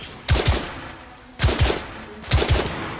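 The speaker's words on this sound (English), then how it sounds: "They're shooting at me!" Gunfire in the shooter game The Order: 1886 during a shoot-out, loud close bursts of two or three quick shots repeating about once a second over a steady background rumble.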